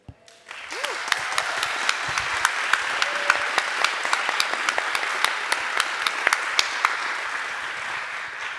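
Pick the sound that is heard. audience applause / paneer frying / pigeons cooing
audience applause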